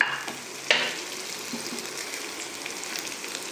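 Okra sautés in a pan with a soft, fairly faint sizzle and a sharp stir or scrape near the start, continuing evenly without talk.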